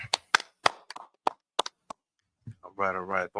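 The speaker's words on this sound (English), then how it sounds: "All right, clap it up." A congregation at a Sabbath service claps in a short burst of scattered, sharp, close claps, followed by a pause and then a voice speaking.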